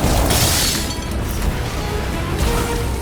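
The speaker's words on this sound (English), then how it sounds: "Incoming explosion!" A loud explosion in the Guardians of the Galaxy video game, a burst that fades into a rumbling, crackling tail with another swell near the end, under dense game noise.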